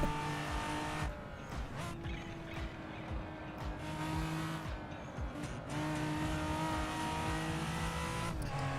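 Race car in the Assetto Corsa driving game with an H-pattern shifter, its engine droning steadily and loud throughout, with brief dips like gear changes and some tire noise.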